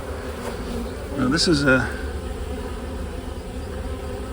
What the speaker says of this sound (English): You can probably see them fanning. Which is just them telling all the other bees, this is home.